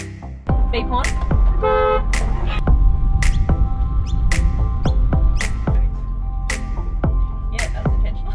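A short horn beep sounds inside a heavily modified car during a driving session, alongside repeated sharp clicks and knocks from the controls over a steady cabin rumble.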